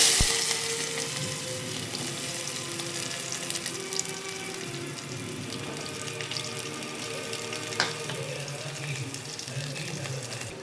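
Spices for a tomato-and-potato sandwich stuffing sizzle in hot oil as a tempering, a bright continuous hiss that starts loud and settles into a steady crackle, with a faint clink partway through and no speech.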